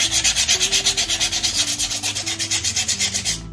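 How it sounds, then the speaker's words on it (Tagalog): Rhythmic back-and-forth sanding of a Yamaha Aerox scooter CVT cover with 240 grit sandpaper, a steady rasping scrub repeating about five strokes per second, close and loud with no talking. "ang ginamit natin guys is 240 na grit ng liha"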